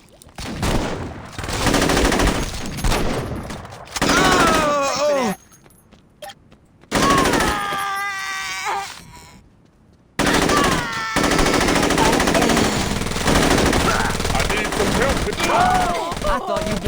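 Automatic gunfire bursts from the Saints Row video game, loud and dense, broken by short pauses and mixed with shouting voices and game sounds.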